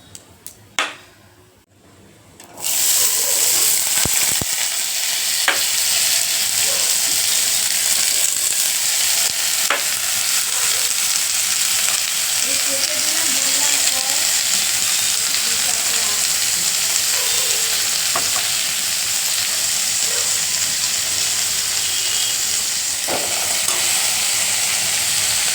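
Potatoes hit a pan of frying chilies and break into a loud, steady sizzle that holds for the rest of the clip, with light stirring scrapes and occasional faint talk.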